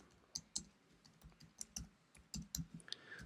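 Typing on a computer keyboard, a quiet, irregular run of sharp key clicks in short bursts and pauses, close by with no voices.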